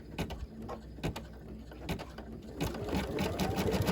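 A machine embroidery unit stitches around the layered fabric and batting of an eyeglass case with a fast, steady mechanical chatter. Needle strikes repeat close by, and the stitching gets denser and louder toward the end.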